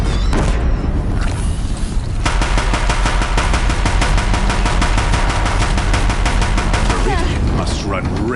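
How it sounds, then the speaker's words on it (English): Deathbringer machines firing in the video game Horizon Zero Dawn, a loud, dense, rapid stream of heavy mechanical gunfire with booming impacts, continuous for several seconds. "If the Deathbringers keep firing, this bridge will go"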